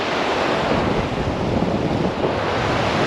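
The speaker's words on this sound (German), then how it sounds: "So, ist unsere erste Flussüberquerung hier." Water rushes loudly and continuously at a river crossing in the Greenland wilderness, a broad, dense roar of flowing current close by, mixed with some wind buffeting, with no voices.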